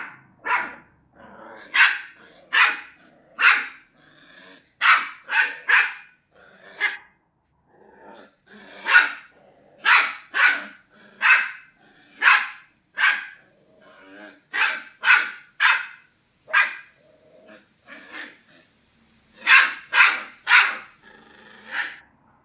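A small puppy barks in a long series of sharp, close yaps, often in quick clusters of two or three, with brief growly bursts mixed in and short pauses between volleys.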